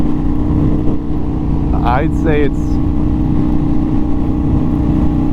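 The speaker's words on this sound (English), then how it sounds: "this is a pretty smooth engine" A motorcycle engine runs smoothly at a steady, continuous drone throughout, loud and close, with someone briefly talking over it midway.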